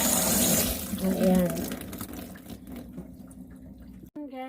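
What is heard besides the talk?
rinsing strained Samyang ramyeon noodles with tap water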